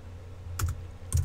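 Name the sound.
typing on a computer keyboard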